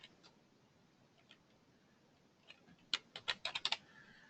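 Computer keyboard typing: a few faint scattered keystrokes at first, then a quick run of six or seven sharper, clearer clicks toward the end, close by in a quiet room.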